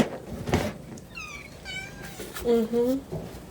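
Several barn cats on a small farm meowing close by, a run of short, rising mews and one longer wail, over a person's voice and background farm noise.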